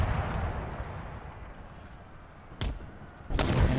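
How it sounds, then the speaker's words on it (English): Artillery pounding in the strategy game Empire Total War, Ottoman Empire campaign: a low continuous battle rumble punctuated by two sharp, loud cannon reports near the end. "Get all the shots we can in this pile with our cannons."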